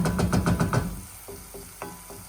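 Fresh and dried porcini mushrooms frying in a pan for risotto, with a loud rhythmic series of stirring scrapes at first, then quieter sizzling broken by a few sharp taps.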